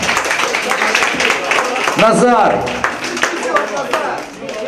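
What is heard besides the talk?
wedding guests applauding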